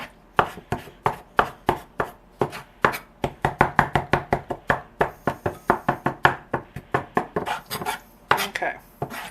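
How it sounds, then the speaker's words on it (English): A knife chops chipotle peppers by hand on a cutting board, giving a steady run of sharp, close knocks at a brisk rhythm, with a few brief pauses between bursts. "we'll just do this. And chop it up real good"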